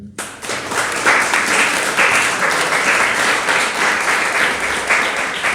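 Loud, dense applause from an audience at a Hindu religious gathering fills the whole stretch, a steady wash of many hands clapping with no pause.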